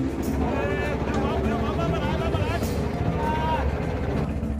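A small fishing boat's engine drones steadily as it comes in to a busy harbour dock, a loud continuous motor hum running throughout beneath voices talking.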